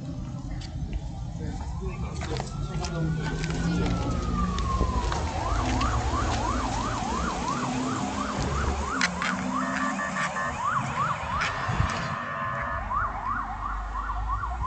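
An ambulance siren wails, first in a long rising and falling sweep and then in a rapid repeating yelp, loud and steady over a busy background with a voice talking.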